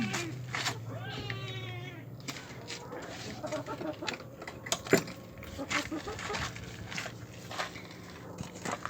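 Domestic cats in a snowy countryside village give a few faint, drawn-out meows early on, followed by scattered clattering and shuffling noises, with a person talking quietly in the background.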